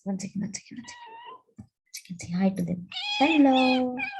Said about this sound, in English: Yes, that was the cat.